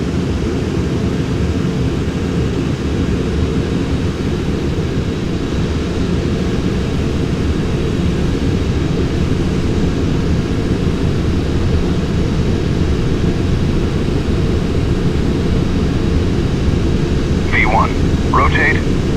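Boeing 747 jet engines in Flight Simulator X during the takeoff roll, a steady, dense, loud roar with no breaks, with a brief faint higher sound near the end.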